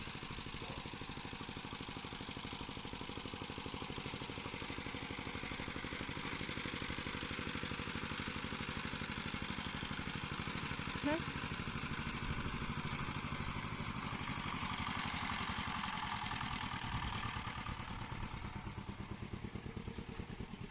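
A vehicle engine idles at low volume with a steady mid-pitched hum and light clatter as it eases into a parking spot, continuous and fairly distant, with no speech.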